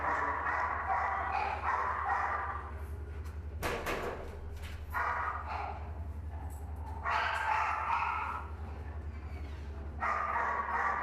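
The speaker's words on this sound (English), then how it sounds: "You have to listen to that barking all day." Several dogs barking at a shelter, repeated yips and barks in bursts with brief gaps, close and fairly loud over a low steady hum, with a short clatter partway through.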